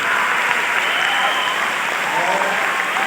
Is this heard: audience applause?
yes